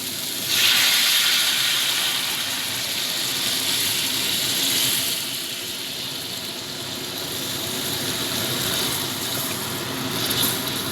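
Hot water poured into fried spice paste for a thin katla fish curry with potato, cauliflower and bori. A loud hissing rush lasts about four seconds, then settles into a quieter, steady steaming hiss with a brief swell near the end.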